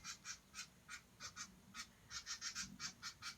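Geese honking in a rapid, irregular series of loud calls, about a dozen bursts that cluster closer together toward the end, heard nearby over a low background rumble.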